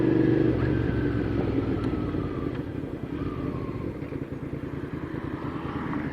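A motorcycle ridden on a January road gives off a steady, close engine rumble that runs the whole time with slight swells, and no one speaks.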